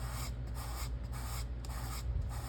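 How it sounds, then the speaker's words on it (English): Light sanding of magazine cutout edges on a paper collage, a soft steady scratchy rubbing with faint rhythmic strokes, close and continuous. "I'm just going to give it a little bit of sanding just to make it blend in a little more."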